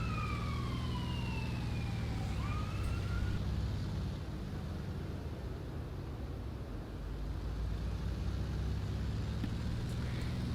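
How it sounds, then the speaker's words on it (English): A siren wails in the distance, its pitch sweeping down and rising again, faint beneath a steady hum of room and traffic noise. "You guys could probably hear a siren outside."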